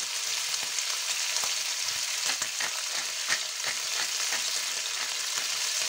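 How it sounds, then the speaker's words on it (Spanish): Beef sautéing over high heat in a pan gives a continuous bright sizzle, with faint stirring scrapes and pops throughout and no voices. "La carne, la ternera, la vamos a saltear aquí."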